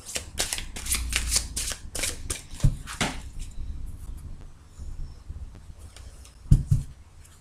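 Tarot cards are shuffled by hand up close in quick riffling bursts. Quieter handling taps and soft thumps follow, and no one speaks.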